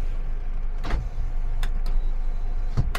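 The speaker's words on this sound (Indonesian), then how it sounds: "Lanjut ke power window, autonya normal, aman juga" Power window motor running in a Toyota Calya G automatic, a steady low electric hum close by with a few brief clicks and knocks scattered through it, no talking.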